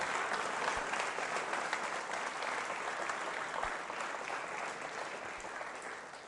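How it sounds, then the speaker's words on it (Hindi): Sustained applause from a large school audience at a quiz show event, a dense wash of clapping that stays loud and steady before easing slightly toward the end. "अगर आप संकल्पित हैं तो बजाइए तालियां इस संकल्प के लिए जोरदार तरीके"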